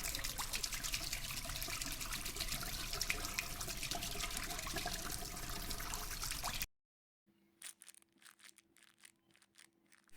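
Tap water trickles and splashes steadily as people wash up outdoors in a forest setting, then cuts off abruptly, leaving a few faint, scattered knocks and rustles.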